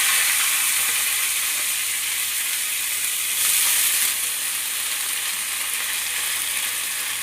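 Pointed gourd stems frying in hot oil seasoned with fenugreek seeds, a steady close hiss and crackle of sizzling that swells briefly midway as the stems are stirred, with no voices.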